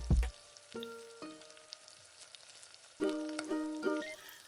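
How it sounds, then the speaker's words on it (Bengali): A quiet hiss of potatoes frying in oil until reddish, with a short clatter at the start and a couple of ringing metallic utensil scrapes against a pan. "আমি একটু লাল লাল করে আলুগুলোকে ভেজে নেবো"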